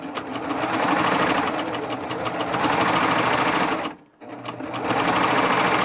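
A Baby Lock serger stitches a cover hem on knit fabric, a steady, loud, fast mechanical whir that runs continuously and drops out briefly near the end before resuming.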